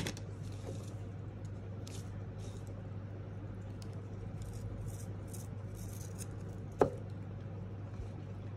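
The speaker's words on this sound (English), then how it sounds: "Let's give it a quick sharpen." A Mont Marte skin-tone colored pencil is turned in a sharpener, giving faint creaking, grinding scrapes in a quiet room with a low background hum, one sharp click near the end.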